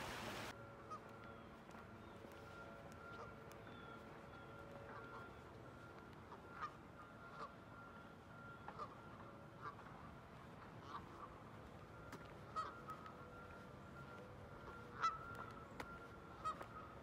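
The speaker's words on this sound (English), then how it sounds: "There's seriously so many geese." A large flock of geese gathered outdoors honk faintly and continuously at a distance, a low steady wash of calls with occasional slightly louder honks over ambient noise.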